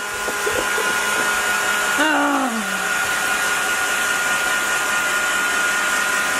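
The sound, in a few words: hair dryer blowing air to dry a guinea fowl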